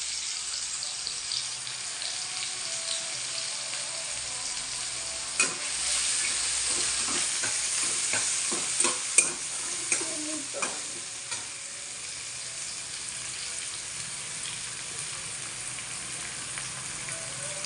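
Garlic and onion frying in a pan for tondli bhaji, an even sizzle throughout with a run of scraping, clattering stirs in the middle, close and fairly loud, with no talking.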